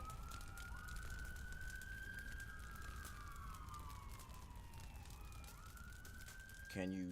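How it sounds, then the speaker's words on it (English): Police siren in a horror game's credits sequence, a wailing tone rising and falling slowly over a dense, rumbling background, fairly distant and steady, with a brief burst of noise near the end. "Police sirens."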